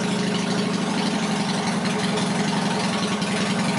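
A Yamaha XS650 motorcycle engine idles steadily up close, its even low throbbing pulse running loud and unbroken with no talking.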